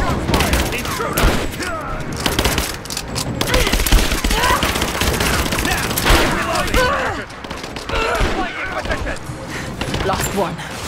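Rapid bursts of automatic gunfire in the video game Rise of the Tomb Raider fill a dense, loud combat scene, layered with clanks and impacts and overlapped by shouted voices.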